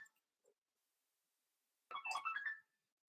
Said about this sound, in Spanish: tengo un teléfono sonando